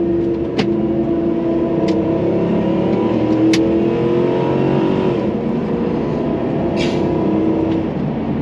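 A Dodge Ram pickup truck drives steadily in four-wheel drive, its engine drone and road rumble continuous and loud throughout, with a few brief sharper knocks and rattles on top.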